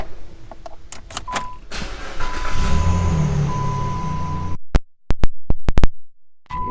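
Power windows on a 2012 Jeep Liberty Sport whir steadily as a window motor runs for a couple of seconds, followed by a series of sharp clicks and thumps from the door, close and clear.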